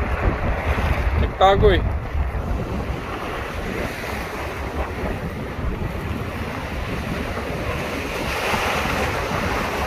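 Strong wind and rough surf on a New Zealand shore, a steady loud roar of gusting wind and crashing waves throughout, with a brief voice speaking near the start.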